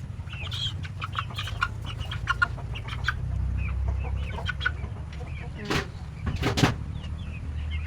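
Polish chickens being fed, with soft, close clucks scattered over a steady low rumble and a few sharper calls near the end.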